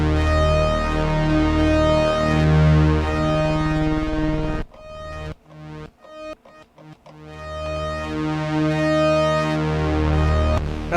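A restored Memorymoog synthesizer with return-to-zero switched off plays thick, sustained buzzing chords, broken midway by a run of short, choppy staccato notes before the full tone swells back, loud and close.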